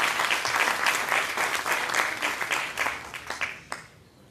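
A conference audience at a union event in the Congress of the Republic applauds steadily, dense clapping holding strong for a few seconds before thinning out and fading near the end.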